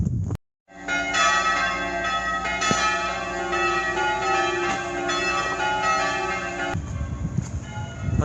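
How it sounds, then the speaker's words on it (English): Church bells peal in Wetton village, a dense, continuous ringing of overlapping tones that carries on steadily from near the start, loud and alone with no talk. "I don't know if that's the official bell ringers or just some kids pissing about."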